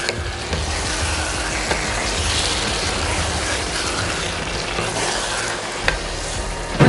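Chicken biryani with chopped coriander and mint sizzles steadily in a pot while being stirred, a constant close frying hiss with a few soft scraping clicks.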